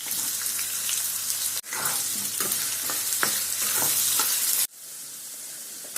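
Potatoes fry in a pan until brown for an aloo gobi curry, giving a loud, continuous sizzle with stirring scrapes. The sound dips briefly twice as the pan is moved.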